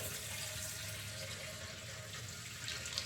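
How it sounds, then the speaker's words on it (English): Fresh gasoline pours steadily into the fuel tank of a BMW K100 motorcycle being rebuilt as a cafe racer, a continuous close liquid splash and gurgle running unbroken for the whole stretch with no talking. "now I added some good fuel just to mix it up more"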